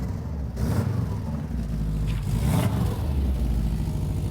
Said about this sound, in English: a definite exhaust blow